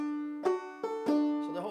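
A short banjo phrase of a few sharp, ringing plucked notes with brief gaps between them, closing on a sustained chord, played alone.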